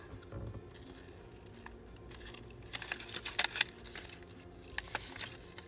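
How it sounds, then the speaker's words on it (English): Scissors cutting paper in a crafting session, a few quiet snips and crinkles scattered over the span, with sharper paper-handling clicks and rustles clustered near the middle and end, no talking. "Or no, I mean, cutting with the scissors."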